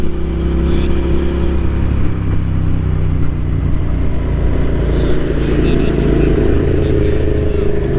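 A Suzuki SV650 motorcycle engine hums steadily at speed, with wind rush and road noise throughout.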